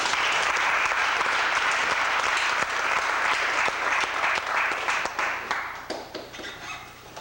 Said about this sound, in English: I want us to give them a warm round of applause